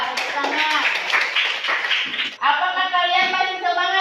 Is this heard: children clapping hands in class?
yes